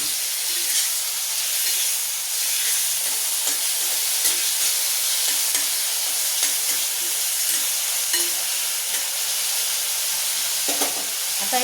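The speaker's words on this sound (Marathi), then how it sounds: "तेल झाले गरम, टाकते कांदा। टमाटर भी लगेच टाकून घेते" Onion and tomato frying in hot oil for a Bharit Vang eggplant dish, a loud, continuous close sizzle and hiss with occasional stirring scrapes throughout.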